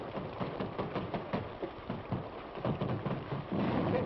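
Rain falls in a 1952 western film scene, a steady muffled wash with a low rumble, thickening toward the end.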